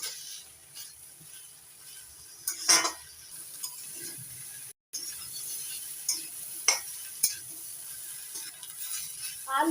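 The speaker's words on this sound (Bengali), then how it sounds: "বেগুন দিয়ে সব কিছুর সঙ্গে একটু ভাজা ভাজা করে নেবো" Eggplant pieces fry in a pan with spices as a spatula stirs them, a soft steady sizzle broken by occasional scraping clicks and knocks.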